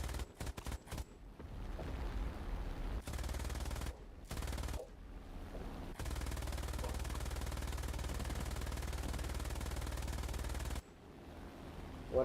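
AI airfield defense anti-aircraft guns in War Thunder firing in long, rapid automatic bursts, a dense rattling roar broken by brief pauses, with short choppy volleys at the start and a final burst near the end.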